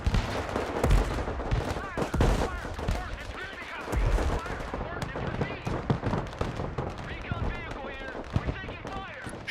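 Mortar and artillery fire in the video game Broken Arrow: a rapid, dense series of sharp blasts and bursts, fairly loud and continuous, with someone talking over them.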